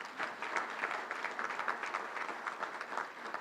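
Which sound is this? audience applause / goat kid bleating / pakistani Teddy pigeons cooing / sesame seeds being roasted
audience applause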